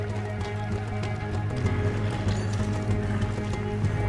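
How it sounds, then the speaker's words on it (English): Horses galloping in the Red Dead Redemption 2 video game, a steady clip-clop of hooves running continuously under a low droning music bed, loud and close throughout. "See the horses?"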